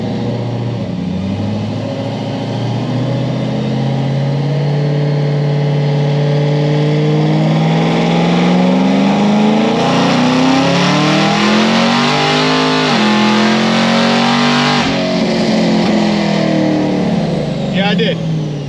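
A car engine on low boost and 93 octane fuel revs hard through the gears, rising pitch sweeps broken by shifts, loud and close, with a voice talking over it.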